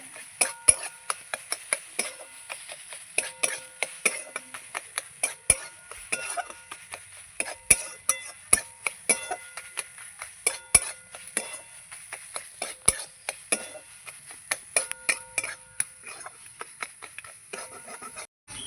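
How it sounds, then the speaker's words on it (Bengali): A spoon mashing bread in a bowl: repeated close clinks and scrapes of metal against the dish in an uneven rhythm, with soft squishing between strikes and no talk. "পাউরুটিটা এর সঙ্গে ভালো করে মিশিয়ে নেব কমতি দিয়ে এগুলোকে একটু ম্যাশ করে দেব"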